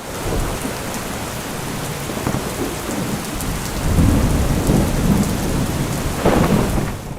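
A heavy thunderstorm lashes Tharad in Banaskantha, with dense rain hissing continuously and thunder rolling in low rumbles that swell louder midway and again near the end.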